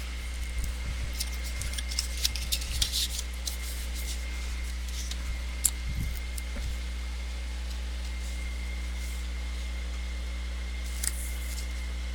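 Score tape is applied to the inside of a handmade photo box: quiet scattered crinkles, taps and sticky peeling sounds, close and faint over low steady background hum.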